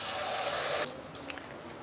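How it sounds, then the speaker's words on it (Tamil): Water poured into ground kadala curry paste in a pan while cooking Kerala-style chickpea curry, a steady liquid splash for most of a second, then fading to light wet drips and squishes. "தண்ணி சேர்த்து இப்போ சேர்க்குறேன்."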